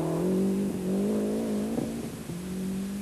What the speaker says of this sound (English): there goes Liati, taking the lead in the first special stage